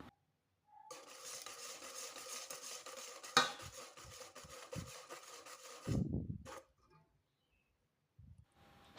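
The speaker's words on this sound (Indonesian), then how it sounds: "Nah, ini aku buat hanya sedikit, jadi cukup diaduk aja menggunakan whisker." A small batch of batter is mixed by hand with a whisk, giving about five seconds of quick, continuous scraping and tapping against the bowl before it stops, followed by a few soft knocks.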